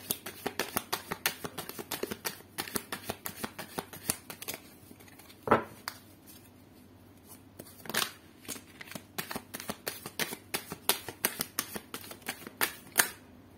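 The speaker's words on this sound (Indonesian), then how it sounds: "Aku akan ambil 5 kartu lagi." Tarot cards are shuffled and handled in quick bursts of crisp riffling and slapping, close and clear, with a brief lull midway before the rapid flicking resumes.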